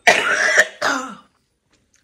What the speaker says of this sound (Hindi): कल थोड़ा सा दही खा लिया था तो खांसी हो गई